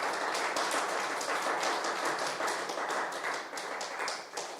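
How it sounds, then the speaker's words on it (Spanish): Church congregation applauding, a dense, steady wash of many hands clapping throughout at moderate loudness, with no talk over it. "Podemos dar un fuerte aplauso al Señor."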